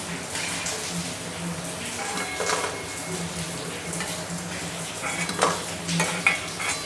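Onion bhaji (kanda bhaji) fritters frying in hot oil, a steady close sizzle and crackle with occasional stirring and utensil scrapes; a voice speaks over it.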